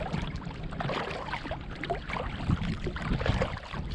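A kayak glides across windy marsh water during bass fishing, giving a steady wash of water and wind noise with faint paddle splashes and hull knocks close to the microphone.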